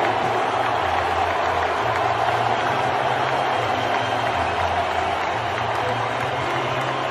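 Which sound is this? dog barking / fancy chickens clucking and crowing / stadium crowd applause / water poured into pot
stadium crowd applause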